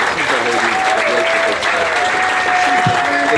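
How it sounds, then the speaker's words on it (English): Audience applause for Dorothy Bedford at the Phoenix Wheel dedication ceremony in Phoenixville, a dense, steady round of clapping from a sizable crowd, loud and continuous throughout with faint voices mixed in. "Can we have a big round of applause for Dorothy?"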